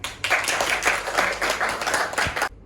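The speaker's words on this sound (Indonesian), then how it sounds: "Tepuk tangan ya." A class in a resilience training session claps on cue, a dense, short burst of many hands close by that stops abruptly after about two and a half seconds.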